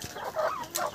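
A village rooster of a flock kept behind netting gives a brief pair of clucks, close and fairly loud, with no talk over it.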